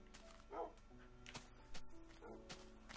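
A dog in the Minecraft video game gives a few short, quiet barks and yips at intervals against faint game background sounds.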